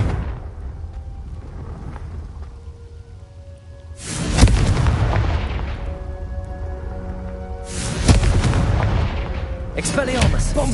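Confringo blasting spell explosions in the Hogwarts Legacy video game, two loud booming blasts spaced a few seconds apart with rumbling decay, over low background game sounds.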